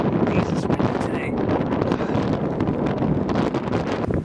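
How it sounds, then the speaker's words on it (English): Strong outdoor wind buffets the microphone in a steady, loud roar with gusty rumbling throughout, near a farm yard with tractors. "wind today"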